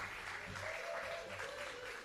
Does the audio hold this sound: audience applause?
yes